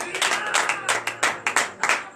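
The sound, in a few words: congregation clapping in acclamation during prayer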